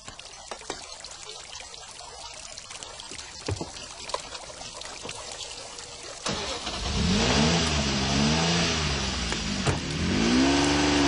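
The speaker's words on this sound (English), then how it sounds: "The Jaguar" A Jaguar XJ220 supercar engine idles and rumbles quietly, then surges into a loud, sustained rev and acceleration, its pitch rising and falling through several strong sweeps.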